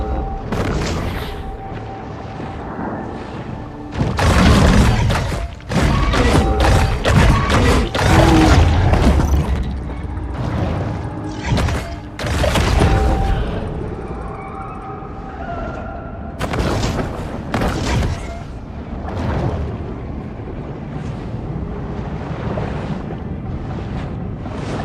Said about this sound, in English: Let's shoot at the shark.